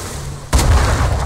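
Ship cannon fire in the pirate game Atlas, a single sudden deep boom that cuts in mid-clip and rumbles on heavily, loud and close after a steady low background.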